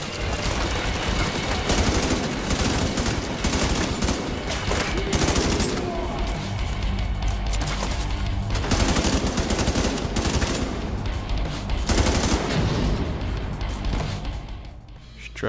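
Dense, continuous gunfire in The Division 2 at the Jefferson Trade Center, with loud rapid automatic bursts and overlapping shots filling the whole stretch with almost no pause.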